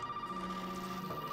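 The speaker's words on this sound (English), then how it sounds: "Oh, phone's ringing." In the horror game Resident Evil 7, a telephone rings faintly with a steady electronic tone over a low ambient hum, brief and slightly distant.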